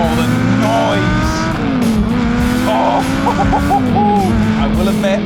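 A Lamborghini Gallardo engine drones steadily while driving, with rising and falling pitch as it revs, and tire noise plus occasional voices heard over it.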